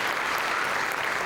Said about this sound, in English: yeah, that's a clap. Please clap.